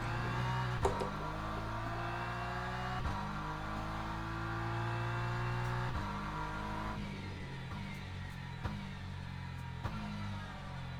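A GT3 race car engine in Le Mans Ultimate hums steadily with shifting pitch, rising and dropping through gear changes, with faint clicks and no voices.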